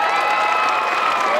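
Audience at a manga and cosplay convention in St Etienne cheering and applauding, a short dense burst of crowd noise with shouts, loud and continuous.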